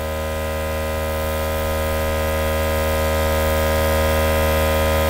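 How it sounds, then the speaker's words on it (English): Airbrush spraying food colouring through a stencil onto a Halloween cookie, a steady unbroken hiss with a constant motor hum underneath, loud and close, with no talk. "When I airbrush a stencil, I wanna come and airbrush almost at a 90 degree angle above the cookie here."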